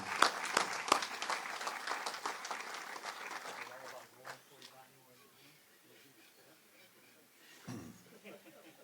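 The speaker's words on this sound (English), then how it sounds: "give them a round of applause" A crowd claps enthusiastically for several seconds at an Australia Day ceremony in Naracoorte, then the applause thins out and fades into quiet room noise.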